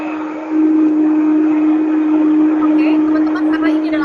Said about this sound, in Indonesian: karena ini adalah high speed blender, suaraku nggak kedengeran